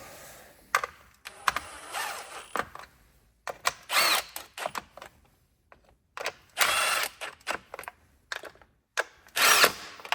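A cordless power tool runs down valve cover bolts on a 2010 Ford Focus 2.0L, giving short whirring bursts repeated in a stop-start rhythm with quiet gaps, close up.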